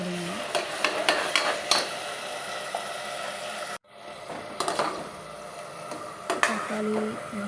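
A spoon scrapes and stirs sautéed onion and ground masala paste in a pan, with rhythmic clinks over a steady sizzle of frying, close up; after a brief cut the stirring and sizzling resume.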